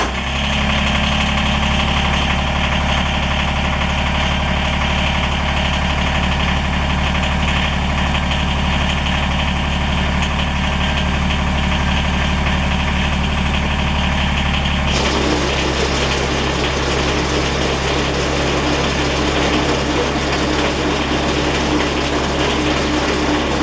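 Kubota BX compact tractor engine idles steadily and close by, giving a constant low mechanical hum with no talk over it. Partway through, the tone shifts slightly but stays even.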